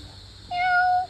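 A single clear cat meow, drawn out and fairly close, rising out of quiet background hum at an animal park.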